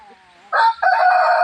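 A chicken crows loudly and close by on a farm where a python has been preying on the birds, a short strained call cut by a brief break and then held strongly to the end.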